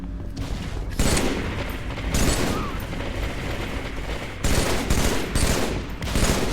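Halo 3 multiplayer gunfire comes in repeated loud bursts of rapid shots, separated by short quieter gaps with mechanical game sounds, and no voices over them.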